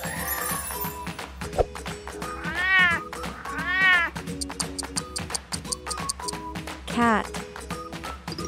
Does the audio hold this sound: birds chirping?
no